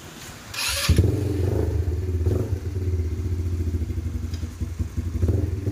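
Engine of a 200cc 4x2 G-Force ATV running in reverse: a steady, loud mid-pitched motor drone with a low rhythmic chug, starting abruptly after a brief quiet moment and holding close throughout.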